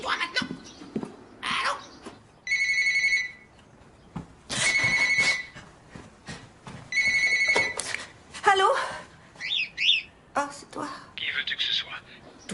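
Telephone rings in repeated two-burst electronic trills, loud and close, spaced between hushed voices and movement noises; people speak quietly around the rings.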